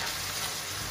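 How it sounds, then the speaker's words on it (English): Onions, carrots and minced beef sizzle steadily in a hot pan, a constant close crackle with a brief stir at the end. "this is the frying part."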